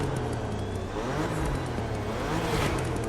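A BMW M4 engine revving in the racing video game The Crew Motorfest, a steady loud growl rising and falling briefly with no talk over it.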